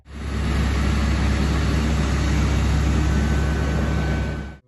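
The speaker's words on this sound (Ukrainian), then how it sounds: "Трактор обробляє виноградники." A tractor working a vineyard drones nearby without a break, a steady, rumbling low mechanical hum holding at a constant level throughout.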